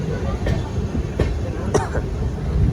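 A train at a Delhi railway station gives a steady low rumble, broken by a few sharp metallic clacks at intervals.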